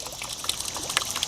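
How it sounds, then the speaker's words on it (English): Water from a 15W solar-powered fountain pump trickles and splashes softly, a close, continuous patter of small droplets with light irregular splashes. "Water's coming all the way out."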